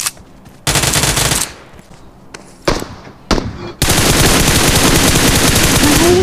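Gunfire in the mobile battle royale game PUBG Mobile hits the player, loud bursts of automatic fire cutting in and out, ending in a sustained close rattle, no talk.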